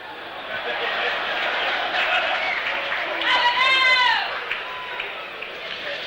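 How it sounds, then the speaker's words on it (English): Crowd murmur and scattered applause rise from the Bradman stand at a 1978 India versus Australia Test cricket match, a constant broad rumble under a commentator's talk, with a brief high, wavering cry from the crowd midway. "We get a bit of booming noise in our earphones from the crowd in the Bradman stand"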